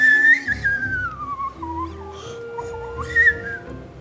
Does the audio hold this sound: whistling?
yes